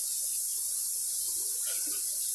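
Tap water running steadily into a canner for pickled garlic, a continuous close splashing hiss with a slight change in tone near the end.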